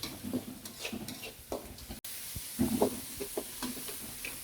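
Onions and tomatoes frying in a pan in a village kitchen, with a low sizzle under scraping and stirring sounds, a brief break near the middle, then louder stirring clatter.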